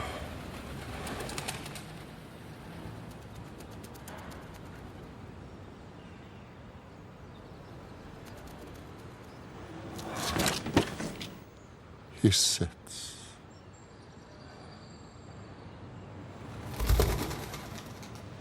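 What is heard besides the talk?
pigeon flapping and cooing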